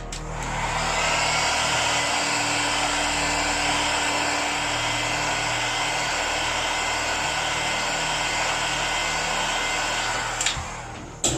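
A heat gun gently warms an iPhone 7 screen during a screen replacement, giving a steady, even blowing roar for about ten seconds before it cuts off.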